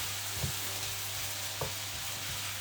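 Mushrooms sizzling in a hot frying pan, a steady broad hiss with a low hum beneath and a few soft knocks as the pan is handled.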